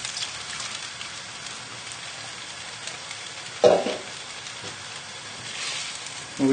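Chicken stock is poured and stirred into a pan of Thai green curry, giving a soft, continuous sizzle and bubbling hiss with a brief louder splash partway through, quiet and with no talking.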